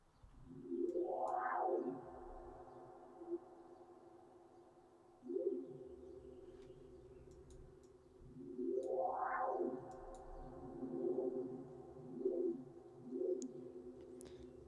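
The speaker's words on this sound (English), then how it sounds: "We get sort of this really weird sort of wind." A weird atmospheric wind made with the Harmor synth rises and falls in slow, breathy swells with gliding pitch sweeps. The sound is soft and airy, with no talking.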